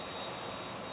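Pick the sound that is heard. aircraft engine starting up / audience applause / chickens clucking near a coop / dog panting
aircraft engine starting up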